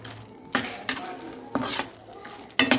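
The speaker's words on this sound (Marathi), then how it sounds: "तर त्याला आता आपण मस्त मिक्स करून घेऊ" Ground cashew and almond powder is stirred into ghee in a pan, giving a few separate metallic scrapes and clinks of the spoon against the pan over quiet background.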